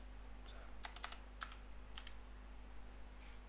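Quick bursts of typing on a computer keyboard, a few soft close keystrokes clustered in short runs over a quiet room hum, no voices.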